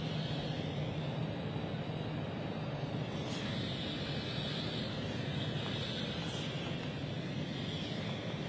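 A KLM airliner departs London City Airport, heard as a steady, distant broadband engine roar that holds at one level throughout with no voices.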